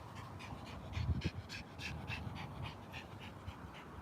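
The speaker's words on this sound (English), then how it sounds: "This dog." A dog pants rapidly and steadily at close range, a continuous rhythmic huffing with no talk over it.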